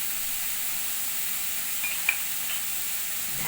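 Ground spices sizzling in a pan for dhaba-style lasuni methi with fenugreek and garlic, a steady even hiss with a faint clink or two, no voices.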